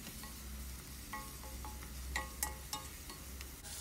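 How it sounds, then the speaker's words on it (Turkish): Pepper paste and tomato paste frying in a pan for stuffed grape leaves, a soft steady sizzle broken by several short utensil clinks and scrapes as it is stirred, fairly quiet and without speech. "1 yemek kaşığı biber salçası, 1 yemek kaşığı da domates salçası ekleyerek güzelce kavuruyorum"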